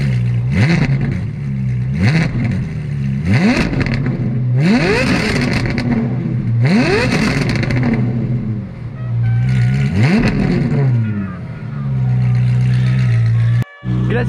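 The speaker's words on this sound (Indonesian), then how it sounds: "sekarang kita mau start up, mau dengar suara knalpotnya" Ferrari 458 Italia with a race exhaust starting up and revving hard in repeated loud surges, the roar echoing off nearby shop buildings, with voices talking over it and a brief dropout near the end.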